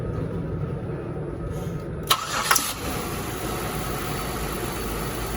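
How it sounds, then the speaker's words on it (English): A Buick Lucerne engine cranks briefly and catches, then settles into a steady, even idle with a low mechanical hum, heard close and alone. "We're going to turn the car on."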